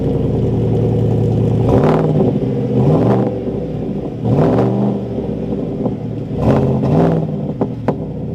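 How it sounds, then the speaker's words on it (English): A 2021 Chevrolet Silverado 1500 with the Badlander package, exhaust blipped through several sharp revs at roughly one-second intervals, each rising and falling over a steady loud idle rumble, close by. "let's take a quick listen to this exhaust"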